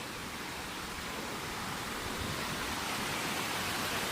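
River water flowing past a safari resort: a steady, broad rushing hiss that fills the whole clip with no change in level and nothing else audible.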